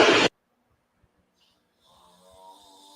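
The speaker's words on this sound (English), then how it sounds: "your dad's snoring hard, bro" A sleeping man snores hard: one loud, rasping snore at the start, followed by near silence and faint background sounds.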